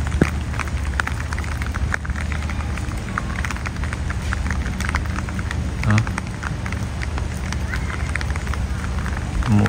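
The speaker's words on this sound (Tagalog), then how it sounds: "Umuulan." Steady rain falls in a dense, even hiss with scattered sharper drop ticks, continuous and fairly close, while low voices murmur now and then beneath it.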